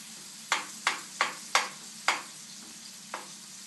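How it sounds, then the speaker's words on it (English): Garlic, onion, carrot and celery frying in a pan for ragu alla Bolognese, with six sharp scraping stir strokes at a steady rhythm over a low, constant sizzle, close and fairly loud. "Now the garlic and onion would need to cook here for another, I would say again, 5 to 8 minutes"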